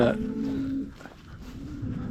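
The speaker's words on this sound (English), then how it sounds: "that noise in the distance, all the cows and a bull" A cow lows in a long drawn-out moo on a farm in Orkney, followed by fainter distant bellowing from cows and a bull with a steady outdoor rumble.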